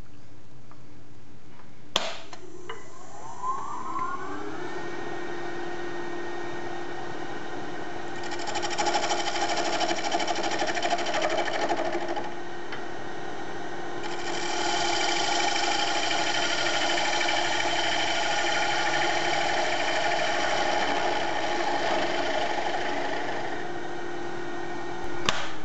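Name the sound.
wood lathe turning a fixture knob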